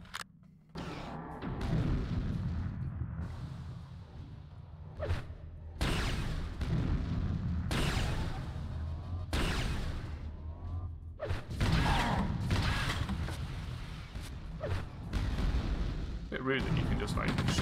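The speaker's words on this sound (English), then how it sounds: "Rude that you can just like shoot three rockets at me." Rockets fire and explode in the video game Quake II, a series of loud heavy booms and rumbling blasts with brief gaps between bursts, some launches in quick succession, filling the whole stretch.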